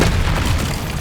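A Confringo blasting spell explodes in the video game Hogwarts Legacy with a loud, sustained booming rumble that stays dense and heavy for about a second.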